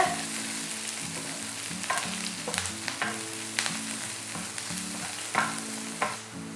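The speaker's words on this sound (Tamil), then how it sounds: "ஒரு 2 மினிட்ஸ்க்கு நம்ம மீடியம் ஹை ஹீட்டில் சாட்டே பண்ணிக்கலாம்" Mushrooms sautéing in a pan over medium-high heat sizzle steadily up close, with frequent scraping and tossing strokes from a spatula and a low hum underneath throughout.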